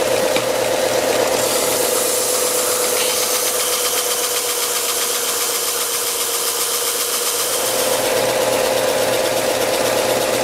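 A grinder sharpens a razor blade with a steady, loud mechanical whine and hum, and a brighter grinding rasp comes in for several seconds in the middle before fading back to the motor alone. No one talks.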